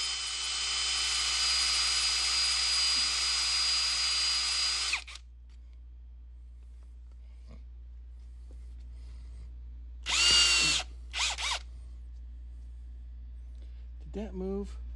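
A power drill bores a mounting hole for a Trav-A-Dial on a vintage South Bend lathe with a loud, steady whine for about five seconds. Two brief further bursts come after a quiet stretch, over a constant low hum.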